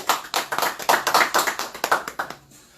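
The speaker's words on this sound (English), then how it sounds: "give him a round of applause." A small audience claps for a guest being introduced: a short burst of close, loud hand claps in an uneven rhythm that fades out after a couple of seconds.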